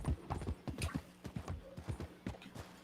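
Horse hooves clip-clop in an irregular, fairly quick rhythm in a video game, faint and mid-distance, with a brief neigh-like sound mixed in.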